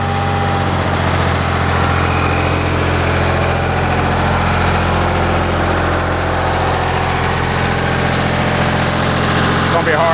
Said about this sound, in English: There I am on max RPM. Perfection. All cylinders firing just like they should.